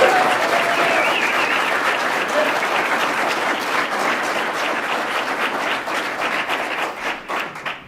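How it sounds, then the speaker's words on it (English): A city council meeting audience applauds loudly and steadily, the clapping thinning out toward the end. "I would ask you to hold your applause"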